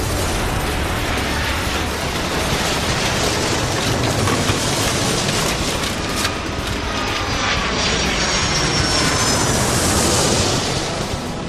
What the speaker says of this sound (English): November 991, clear for takeoff, runway 36.